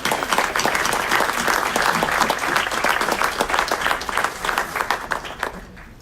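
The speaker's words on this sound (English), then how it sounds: "Big round of applause for Ward number 3" An audience at a city council meeting in Aurora breaks into sustained applause, dense and lively clapping that holds steady for several seconds before tapering off near the end.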